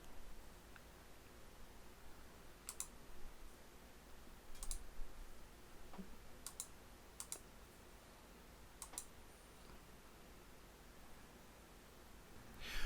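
Mouse clicks sound while a network capture is started on a computer, a handful of sharp, isolated clicks spaced seconds apart over a very quiet background hiss.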